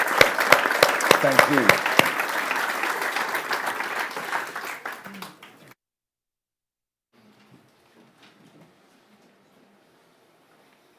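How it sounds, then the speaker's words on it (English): A conference audience applauds its panel with dense, loud clapping that gradually tapers over about five seconds and then stops abruptly, followed by near silence with a few faint scattered sounds; a brief spoken thanks overlaps the clapping. "can we round of applause for our panel, please?"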